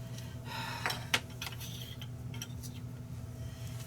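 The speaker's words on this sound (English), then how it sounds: "let me stir this up" Chicken is stirred with a utensil in a Ninja Foodi pot, giving a few faint scraping clinks against the pot over a steady appliance hum, with no talking.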